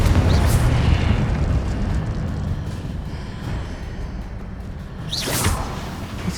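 A Confringo blasting spell explodes in Hogwarts Legacy with a booming burst and whoosh, and a second blast follows a few seconds later over a rumbling background.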